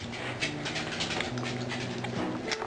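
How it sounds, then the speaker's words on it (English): A small dog whimpers in thin, wavering tones over a steady run of quick, breathy pants, close by and continuous with no talking. "the little dog says he's left out"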